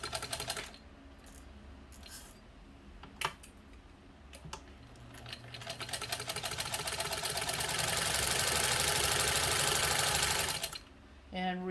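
A 1948 Singer 15 sewing machine runs close by, a few separate clicks giving way to a long, loud, fast rattling stitch run that speeds up and then stops abruptly.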